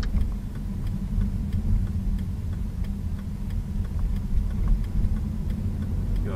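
Car driving through Aomori city streets and turning right onto a wide three-lane road, a steady low engine and road rumble with faint regular ticking from the turn signal, no voices.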